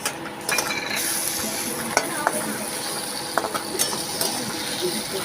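Prawns and onion fry in a pan with a constant dense sizzle, broken by sharp, irregular clicks and scrapes from a utensil stirring against the metal.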